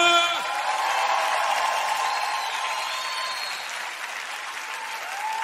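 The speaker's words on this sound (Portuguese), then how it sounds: "Uma salva de palmas." Audience applause for Carlinhos de Jesus's dance company at a samba and pagode show, a dense, steady wash of clapping that holds loud throughout, with faint musical tones and a brief voice near the start.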